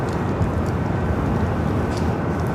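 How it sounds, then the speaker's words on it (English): A Southwest Airlines 737 MAX 8 taking off from runway 24 left at LAX, a loud, steady broadband engine roar filling the whole moment without letup and no voices over it. "Southwest flight taking off on 24 left, just heading to SFO"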